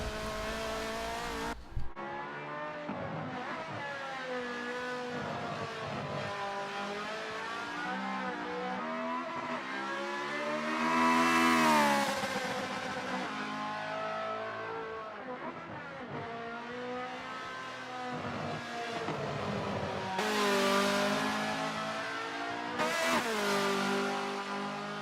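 Cars race in the Forza video game, engines revving and whining up and down through gear changes, loud and continuous for the whole stretch, with surging peaks and tire noise and no talking.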